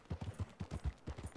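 In the video game Red Dead Redemption 2, hooves clip-clop at a brisk, even trot, a soft repeating pattern of muffled thuds.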